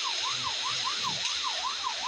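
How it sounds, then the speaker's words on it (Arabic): A police car siren in the game Rope Hero Vice Town wails in a quick rising-and-falling loop, loud and close and repeating evenly with no talk over it. "عايز العربية ايه يا عربية الشرطة"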